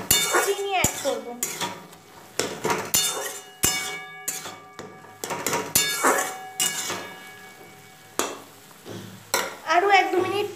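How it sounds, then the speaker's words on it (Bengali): Tomatoes for tamarind chutney are stirred and fried in a pan, with repeated scraping and clinking of a spoon against the pan over a soft sizzle. The strokes come in irregular bursts, close and fairly loud. "আরও 1-2 মিনিটের মতো টমেটোটাকে একটু নেড়ে চেড়ে ভুনছি"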